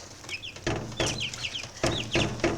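Chickens cluck in short repeated bursts close by, several bird calls overlapping in a quick uneven rhythm with no voices.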